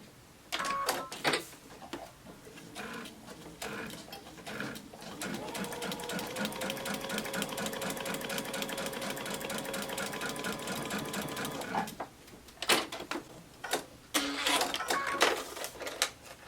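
Sewing machine stitching a quilt seam, a fast steady mechanical whir lasting several seconds, framed by quieter handling clicks and thumps before and after.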